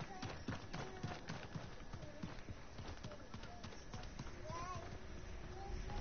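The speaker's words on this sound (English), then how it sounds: "I heard footsteps this way." Quick rhythmic footsteps in the Fortnite video game, a run of close, repeated thuds heard under faint game ambience, with no clear talk in the clip.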